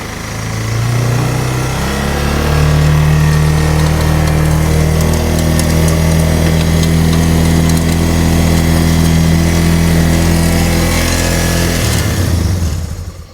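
Engine of a cheap four-wheeler started with a jump box, running loud and close with a steady, slightly uneven idle for about twelve seconds before cutting off.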